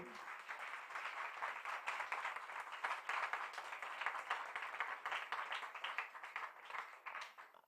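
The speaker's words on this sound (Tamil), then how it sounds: "அவருக்கு ஒரு பெரிய கைத்தட்டல்" Audience applause at a Sri Sathya Sai 97th birthday celebration in Sai Charanam Hall, Chennai, steady dense clapping from a crowd, moderately distant and sustained throughout with no talking.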